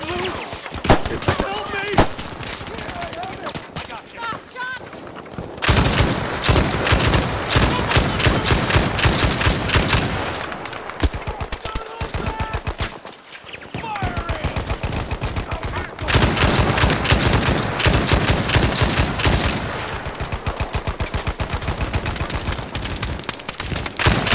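Gunfire in Battlefield 5 during a Pacific Front milsim event, long stretches of loud, rapid automatic fire in sustained bursts with brief pauses between, while players talk over the shooting.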